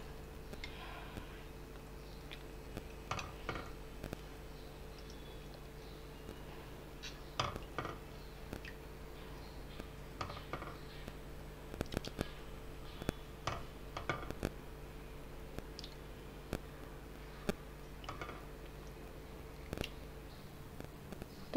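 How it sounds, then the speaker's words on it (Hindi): Konkani-style fish curry being served out into a dish, with faint, scattered clinks and taps of a utensil against dishware in an otherwise quiet room. "ओके, तो चलिए मैं अब इसे डिश आउट करके दिखा देती हूँ आपको।"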